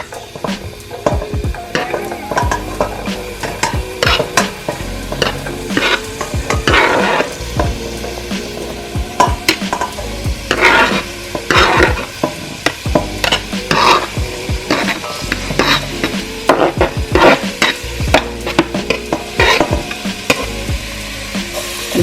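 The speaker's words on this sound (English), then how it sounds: "Now I will add the oil and mid-heat add the veggies" Vegetables for collard greens frying in oil on a stove at medium heat, a steady close sizzle broken by frequent stirring scrapes and utensil knocks.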